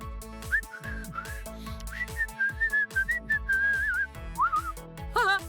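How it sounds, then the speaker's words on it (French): Someone whistles a wavering melody over a steady rhythmic backing track, the tune sliding up and down and ending on a quick trill. "Whistle, siffler en anglais commence par la lettre W."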